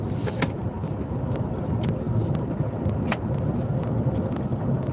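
A car drives along a road with a steady, loud broadband engine and tire rumble mixed with wind, heard from inside the vehicle with a few faint clicks on top.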